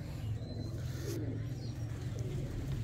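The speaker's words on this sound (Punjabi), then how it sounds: "ਇਹ ਉੱਡਿਆ ਕਬੂਤਰ ਹੈ ਜੀ" Pigeon cooing with soft, steady low murmurs running through the whole stretch, fairly faint and close, over a constant background hum.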